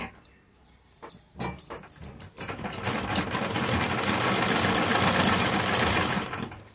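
A sewing machine stitches samosa lace onto a fabric edge, starting with a few scattered clicks and taps, then running in a loud, steady whirring burst before stopping.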